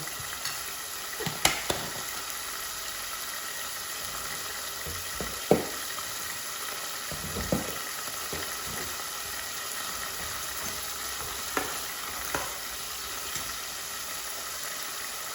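Chicken liver bhuna with coriander and cumin frying in a pot, a steady close sizzle with scattered spoon scrapes and clinks, alone without talk.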